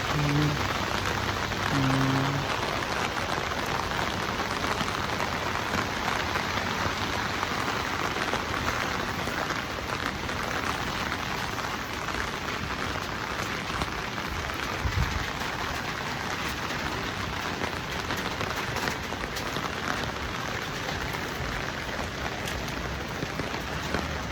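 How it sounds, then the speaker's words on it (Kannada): Steady, continuous rain pours down outside a university main gate in Taiwan, a dense even hiss with drops pattering on surfaces throughout, no voices. "ಅಂದ್ಕೊಂಡಂಗೆ ಬಂತು ಮಳೆ."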